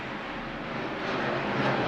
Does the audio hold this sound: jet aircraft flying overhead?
yes